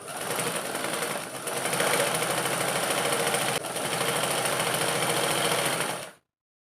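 A sewing machine runs steadily, stitching a princess-cut kurti in a continuous, even whir with a brief pause midway, then stops abruptly; no one speaks.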